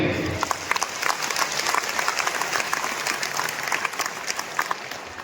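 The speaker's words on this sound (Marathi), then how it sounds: "पुन्हा एकदा आपण यांचं मोठ्या आवाजात टाळ्या वाजवून स्वागत करूया" Audience applause at a welcome ceremony for a spiritual gathering, a steady wash of many hands clapping for about five seconds with dense, even crackle and no voices over it.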